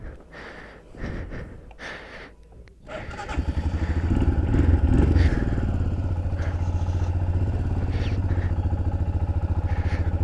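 A motorcycle with snow chains fitted rides over snow in winter Spiti near Kaza, its engine rising to a loud, steady drone with a rhythmic chain clatter after a few seconds of muffled rustling and breathing close to the rider.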